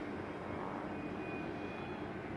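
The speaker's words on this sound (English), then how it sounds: "Guys, this plane is so awesome." An E-flite T-28B Trojan radio-controlled airplane flies past in the evening, its steady motor drone continuous and moderately loud throughout with no talking.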